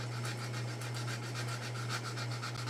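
Sanding filler on a scale star fighter model produces a steady, continuous rubbing scrape with faint rhythmic strokes, close and alone over a constant low electrical hum.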